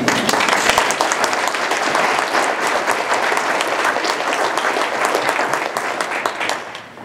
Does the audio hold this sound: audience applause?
yes